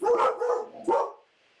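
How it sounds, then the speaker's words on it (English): Several dogs bark loudly and close by in a home, two or three quick bursts of barking in under two seconds before falling quiet. "I have very loud dogs right now."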